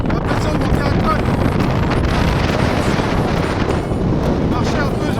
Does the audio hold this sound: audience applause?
no